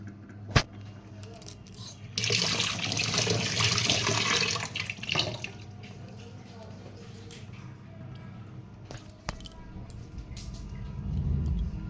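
Hands are washed under a running tap in a home kitchen, a broad hiss of flowing water lasting a few seconds between quieter handling sounds and a couple of sharp clicks, with a voice speaking over it.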